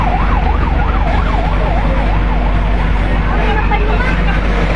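Fire truck siren wailing in a rising and falling pattern at a house fire in Sorsogon City, loud over a rumbling idling engine, with voices talking in the background.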